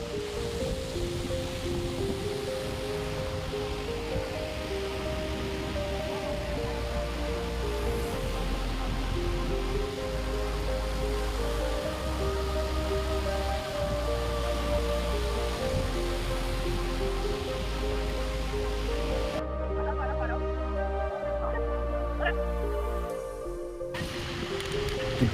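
The Vasudhara waterfall near Mana village roars in a steady, full wash of falling water, heard throughout with music playing over it.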